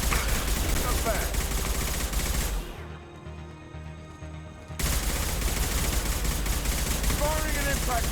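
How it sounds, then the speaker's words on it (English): Impact shot gunfire in the Mass Effect video game, loud sustained bursts of shooting that cut out briefly midway and then resume just as dense, with a voice talking over the combat. "Firing an impact shot."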